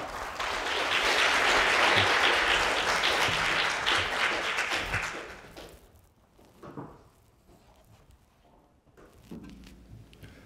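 Audience applause at a Korean awards and results-sharing ceremony as a presenter is welcomed, a loud sustained burst of clapping from a crowd that fades after about five seconds into scattered claps and room noise.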